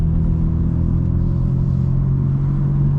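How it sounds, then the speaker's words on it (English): A BMW M4 F82 engine drones steadily while driving through city streets, a continuous low rumble with no clear revving, close and fairly loud throughout. "Really just take advantage of the sound of this car"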